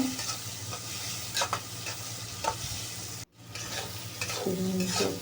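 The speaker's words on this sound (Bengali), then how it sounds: "চিংড়ি মাছগুলো দিয়ে পরে হালকা একটু নাড়াচাড়া দিয়ে তারপর একটু ঢেকে দিব দুই মিনিটের জন্য" Prawns frying in a pan with bitter gourd to come, a steady close sizzle with spoon scrapes as they are stirred, cut by a brief dropout midway before the sizzle resumes louder.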